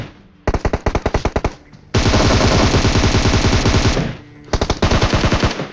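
Rapid automatic gunfire in a shooter video game: a fast burst of loud shots, then a longer dense stretch of continuous fire, then another burst, close and loud.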